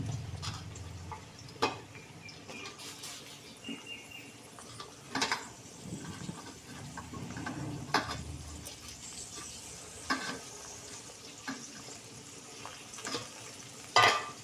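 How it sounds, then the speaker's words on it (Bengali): Onions frying in oil in a pan for a dish of fried taro stolons, a soft steady sizzle with occasional stirring clicks and scrapes, close by and fairly quiet, no talk. "তেল দিয়ে পেঁয়াজগুলো দিয়ে দিচ্ছি রান্না করবো"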